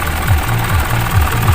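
An Isuzu 4HL1 diesel engine, just calibrated after hard starting and vibration trouble, idles up close with a loud, rhythmic knocking chug repeating several times a second.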